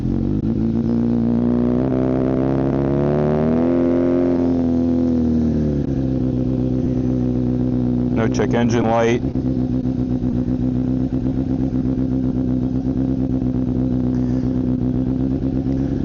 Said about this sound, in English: So this is the new full M4 exhaust and the Two-Wheel Dyno Works tune for the first time